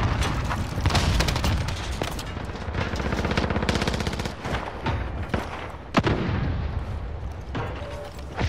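A light machine gun fires long, rapid bursts in Call of Duty Modern Warfare, loud and close, with brief pauses and a few sharper blasts between.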